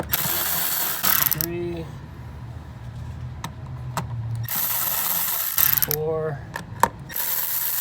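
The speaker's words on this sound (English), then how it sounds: "we basically got 5 screws to remove the top of the air filter box." A ratchet clicks in quick bursts while screws come off the top of a Honda CR-V air filter box, the bursts separated by pauses. A person counts aloud between them.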